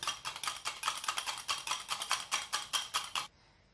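A spoon stirs a honey face mask mixture in a small bowl, making a quick, steady run of scraping clinks for about three seconds before it stops abruptly.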